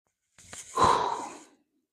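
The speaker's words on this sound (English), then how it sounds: "In through the nose as much as possible. Out through the mouth." Heavy breathing during a beginner workout: a single loud, breathy exhale lasting about a second, close and isolated in otherwise quiet surroundings.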